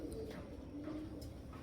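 A racer pigeon, a costly blue-black checker, gives soft, low cooing notes in brief repeated bursts, faint against a quiet indoor background with no speech.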